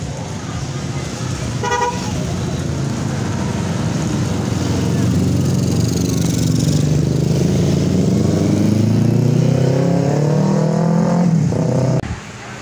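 A motorcycle engine hums and rises steadily in pitch as it accelerates in the rain, with a brief horn toot early on and road noise around.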